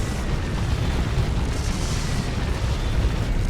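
An orbital bombardment in Dawn of War 2, during a Space Marines versus Orks match, lands as a dense, roaring wall of explosions and booming blasts that sustains loudly for the whole stretch.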